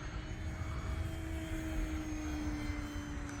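E-flite Decathlon RC airplane on an easy pass below three-quarter throttle, a steady electric motor and propeller drone with a faint high whine, continuous and moderately loud throughout.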